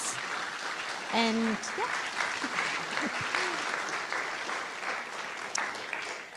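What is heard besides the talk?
audience applauding the speakers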